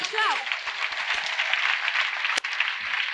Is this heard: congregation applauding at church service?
yes